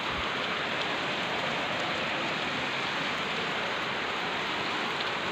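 Heavy rain pouring down outside in a steady, dense hiss that stays loud and even from start to finish, with no other sounds.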